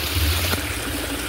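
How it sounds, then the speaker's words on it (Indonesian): Water flowing from a mountain spring at the source of a river, a soft continuous trickle and gurgle close by, with no talking. "Nah inilah air mengalir ya."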